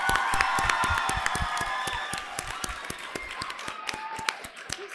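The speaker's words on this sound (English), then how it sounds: "Another round of applause for these amazing guests" Audience at a girls' leadership summit applauding guests, with sharp individual claps in a loose rhythm over a crowd murmur and a sustained tonal background, fading slightly toward the end.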